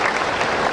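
An audience claps together during a Shiva Mahapuran bhajan gathering, a dense, loud, steady wash of many hands with no voices standing out.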